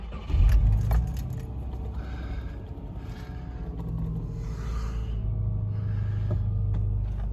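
An old Subaru car cranks with a sharp burst and a faint jingle of keys, then settles into a low, rumbling idle that holds steady close by.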